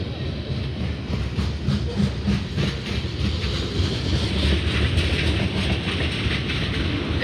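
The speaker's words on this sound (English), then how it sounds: "It's a long train" A long mixed freight train rolls steadily past at close range, with a loud, continuous rumble and rhythmic clickety-clack of wheels over rail joints throughout.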